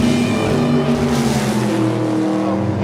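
Military trucks rolling in a nine-vehicle convoy with pontoon bridge units and a boat on an Ural truck, a loud, close, continuous engine drone with rising and falling whine.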